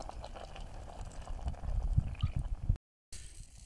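Bubbling, gurgling liquid with tomatoes simmering at a steady boil in a pot at a camp, with soft low churning and a brief dropout near the end.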